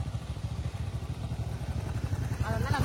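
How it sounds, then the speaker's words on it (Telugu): A motorcycle runs near a beach in Visakhapatnam, its engine putting out a steady low pulsing rumble that swells slightly louder toward the end, with a little clatter on top. "ఇంకా బైక్ వస్తుంది."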